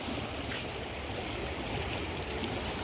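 The Ganga rushes in spate at Haridwar, a continuous broad roar of fast-flowing water, steady and close, with no voices over it.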